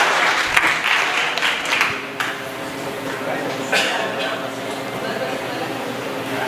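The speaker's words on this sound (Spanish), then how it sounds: "Aplausos." Workshop audience applauds in a burst of clapping that swells early, dips, then picks up again, filling the room at moderate loudness with some voices mixed in.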